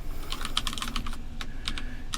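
Rapid clatter of typing on a computer keyboard, uneven bursts of keystrokes, close and clear, as code is entered at an interactive Python prompt, with no voices.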